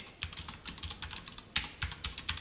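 Code being typed on a computer keyboard during a Java programming lesson, with a steady run of close, crisp key clicks and a few firmer strikes, and no talking.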